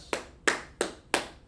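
Hand clapping at the end of a class, five sharp, evenly spaced claps in a steady rhythm, close and clear with no talking.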